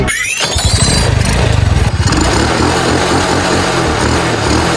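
A motorcycle engine revs loudly and close during a test drive, a sputtering rising burst followed by a rough steady idle.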